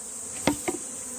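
Honeybees around a beekeeper's mating hives give off a faint, steady buzzing drone throughout, broken by a couple of brief, sharp knocks close by.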